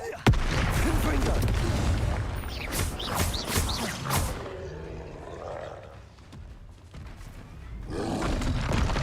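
Confringo fire-blast spell exploding in the video game Hogwarts Legacy, giving loud, dense booming roars and crashing bursts that come back to back, then briefly ease off before another blast swells up.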